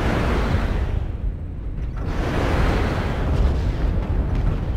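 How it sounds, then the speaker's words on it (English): Airstrike explosions in MechWarrior Online roll as a continuous heavy, low rumble and blast wash, loud and steady throughout with no distinct gaps and no talk. "Airstrike."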